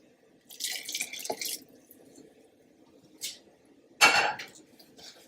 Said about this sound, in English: add my boiling water